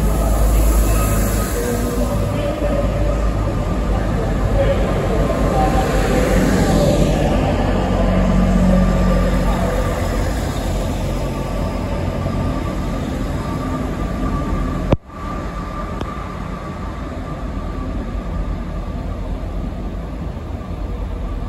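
Trains at a Liverpool station give a steady rumbling, hissing rail noise with a faint high whine, heard continuously at moderate distance, briefly cut by a sharp break partway through.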